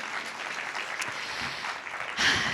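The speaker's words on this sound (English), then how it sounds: "let's give it a huge round of applause for the storytellers" An audience claps for storytellers at a book launch event, a steady patter of many hands that swells slightly near the end, with a faint voice underneath.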